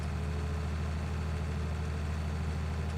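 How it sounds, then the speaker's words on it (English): A tractor engine in Farming Simulator 19 idles steadily throughout, a low continuous rumble with no talking over it. "So I'm just going to pull this tractor over here."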